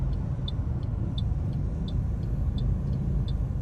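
Steady low road rumble and engine drone from inside a smoothly driven taxi passing a market, with faint regular ticking, likely a turn signal, repeating about every two-thirds of a second throughout.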